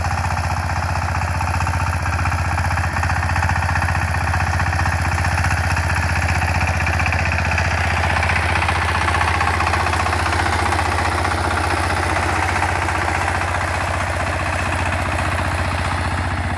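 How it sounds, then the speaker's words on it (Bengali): A Dongfeng power tiller engine runs steadily and loudly, a continuous low chugging drone that holds unchanged from start to finish with no voices. "এই গাড়িটা মূলত ডংপিন, চাংসাই ডংপিন 24 সালের বডি, আর মূলত সাইপিন 25 ইঞ্জিন লাগানো আছে।"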